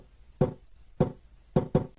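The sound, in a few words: pitched-down kick drum made from Wii Tennis sound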